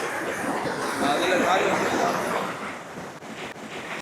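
A waterfall in Kumari with strong, heavy flow roars as a broad, continuous rush of water close by, with some wind buffeting the microphone.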